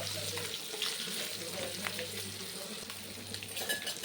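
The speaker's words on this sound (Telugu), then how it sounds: "చేప ఉడుకుతా ఉంది, చేప ఫ్రై అవుతుంది" Fish fries in a pan with a loud, steady, close sizzle and crackle throughout, with a low hum underneath and a few faint clinks.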